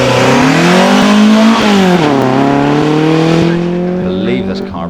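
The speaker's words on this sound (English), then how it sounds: "I believe this car again is running a cross flow. Sounds very nice." A Mark II Ford Escort hillclimb car with a Crossflow engine powers uphill at the Longleat speed hillclimb, its loud engine note rising and shifting through gears as it nears, then fading slightly toward the end.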